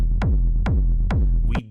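Three heavy techno kick drums with a booming, reverse-reverb-treated rumble trailing each one, made with iZotope Trash; loud, regular low thumps, then a short reversed swell cuts off at the end.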